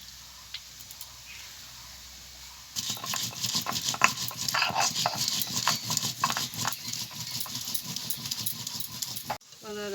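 Coconut is grated by hand, producing a rapid run of scratchy, rhythmic scraping strokes that starts abruptly after a quiet stretch, sounds close, and stops just before the end.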